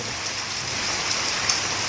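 Steady rain falls on a rainy day, a continuous close hiss with occasional drop splashes.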